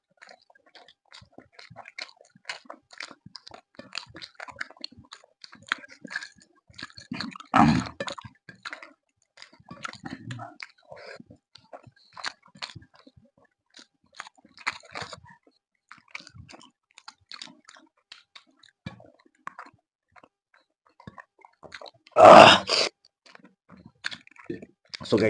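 Close, wet chewing and crunching while eating fish curry with rice, with soft irregular mouth sounds spread across the stretch and two louder bursts standing out, plus occasional talk.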